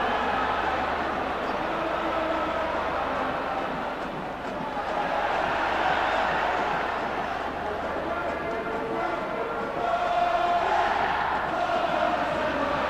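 A stadium crowd murmurs and reacts at a Juventus v Sampdoria football match in 1995, a steady roar across the stands under a commentator's voice.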